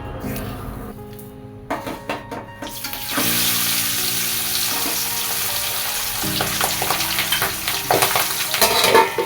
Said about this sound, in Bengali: এখানে পাবদা মাছটা ভাজতে গিয়ে এত ফাটছে